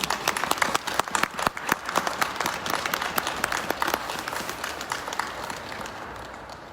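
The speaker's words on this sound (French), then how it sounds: "vous pouvez les applaudir" A church congregation claps during a Lourdes novena service in Arlon, with sharp, distinct individual claps over a softer wash that thins and fades toward the end.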